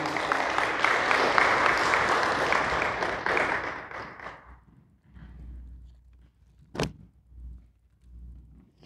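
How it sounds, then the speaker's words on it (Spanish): Church congregation breaking into strong applause during a Spanish-language worship service, dense clapping for about four seconds before fading into quieter room sounds and a single sharp knock. "Dale un fuerte aplauso a Cristo Jesús."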